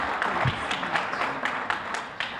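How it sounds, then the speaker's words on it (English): An audience at a neighborhood press briefing applauds, a moderate, continuous patter of many hands clapping at some distance, with faint voices mixed in. "please join me in giving a big round of applause and welcome Margarita Alvarez,"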